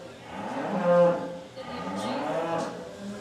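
A cow moos loudly in the show ring at a breeding beef show in a large arena, where a supreme champion cow-calf pair is being shown. One long, deep bellow swells and fades, then lower lowing follows against the arena's background murmur.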